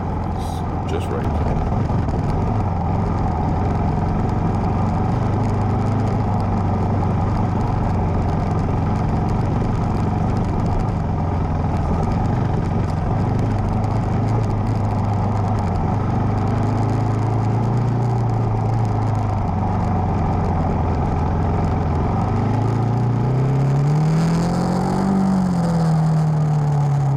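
A Husqvarna 701 motorcycle rides a woods trail: a constant, close engine drone with shifting pitch as the rider picks up speed, rising toward the end, with a voice talking over it.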